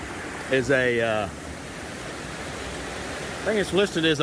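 A small brook near a campsite in Vermont's Appalachian Trail country makes a steady, hissing rush of flowing water that fills the background, while people talk briefly at the start and near the end.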